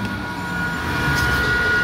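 An up Sealdah–Katwa local train moves through the station on a foggy morning, giving a steady, moderately loud rumble with a faint high whine that swells slightly toward the end.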